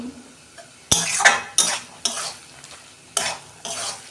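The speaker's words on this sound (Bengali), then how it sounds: "আমি নেড়ে চেড়ে কত শুকনো করে নিয়েছি" Kochu shak (taro greens) cooked with a hilsa fish head is stirred in a pan until dry, giving close, loud spatula scrapes in irregular bursts over a faint sizzle, with no talking.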